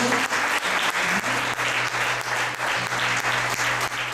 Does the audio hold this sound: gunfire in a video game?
no